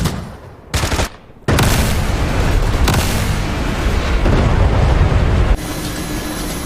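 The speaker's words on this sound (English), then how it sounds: "Get those rockets out quick, RC, because you won't be last long" Rocket salvo from an Mi-17 helicopter in DCS World during a 1999 Indian Air Force attack on high-altitude mountain bases, a sustained roaring barrage after brief bursts, loud and continuous, ending in a lower rumble.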